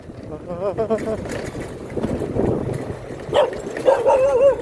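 A dog barks repeatedly in a few short, sharp bursts near a concrete wall along a canal on the edge of Bangkok, while someone talks over it.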